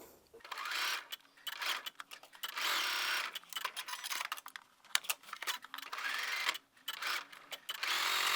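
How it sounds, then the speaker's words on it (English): A sewing machine stitches small patchwork fabric pieces for a flower picnic blanket in short, choppy runs of rapid mechanical whirring broken by brief stops, close to the listener. "So let's take those to the machine and sew."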